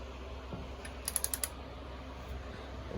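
A torque wrench tightens a bolt to 77 foot-pounds while fitting a dual CP3 pump kit to a BMW 335d M57 diesel engine. It gives a quick burst of about five faint, sharp clicks over a quiet background.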